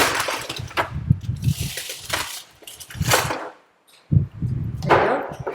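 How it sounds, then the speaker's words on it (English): Ice cubes poured into a cup while making two-tone pastel milk tea with flavoured syrup, giving several bursts of clattering and rattling, near and fairly loud, with a short pause before a final pour. "And then pour a bit more ice."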